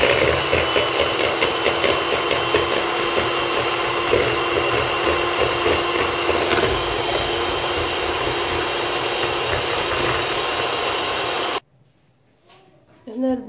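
An electric mixer whips cold liquid cream in a bowl for strawberry verrines, a loud steady motor whir running for most of the stretch before cutting off, followed by a short stretch of quiet speech.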